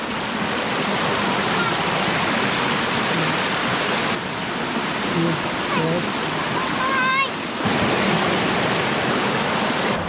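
A continuous rushing roar of falling water at Wang Duean Ha waterfall in Thailand fills the scene, broad and steady, with a few faint bird calls and brief voices in the background.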